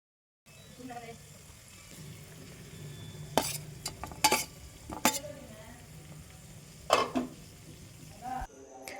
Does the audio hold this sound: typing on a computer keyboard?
no